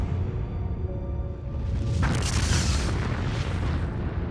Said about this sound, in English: more than 400 Russian warheads begin detonating in powerful ground bursts